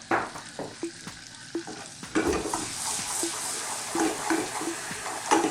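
Flour is stirred into a roux in a pan, giving a continuous sizzle broken by repeated spoon taps and scrapes against the pan at an uneven rhythm, close and fairly loud.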